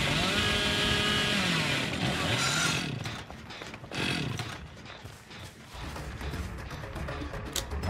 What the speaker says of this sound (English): you get chainsaw